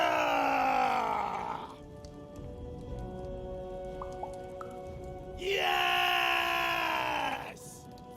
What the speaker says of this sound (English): We need to scream so that our enemies know that we're here!